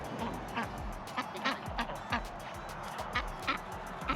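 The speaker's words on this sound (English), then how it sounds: "they're both drakes right here in the front and center" Male ducks (drakes) on a spring homestead quack in a steady, repeated series of short calls, close by and moderately loud over a constant background hiss.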